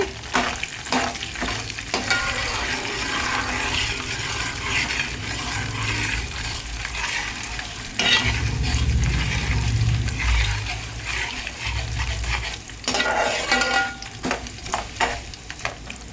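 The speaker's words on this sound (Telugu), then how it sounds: "ఆనియన్స్ కట్ చేసి పెట్టుకొని ఒక 2 ఉల్లిపాయలు చిన్నవి వేసుకోవాలండి" Two small chopped onions fry in hot tempering oil for rice rava upma, a steady close sizzle broken by scraping stirs of the spoon, with no voices.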